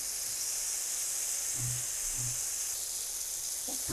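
Mashed ridge gourd for a bhorta fries in a pan, drying out its water with a soft, steady sizzle and hiss, plus a few faint low knocks, no talk.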